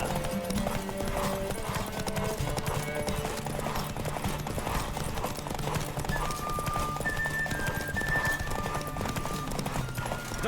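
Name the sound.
horse galloping, from video game The Witcher 3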